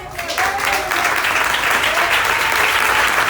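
A church congregation at a Sunday family service applauds in loud, sustained, dense clapping that fills the room, with a voice faintly heard over the crowd.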